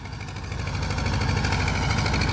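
Engine of an antique 51-year-old Zetor 2011 tractor imported from Czechoslovakia, running steadily with a continuous low mechanical throb and rattle, close and fairly loud, no talking.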